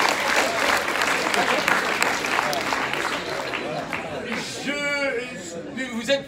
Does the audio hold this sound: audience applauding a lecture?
yes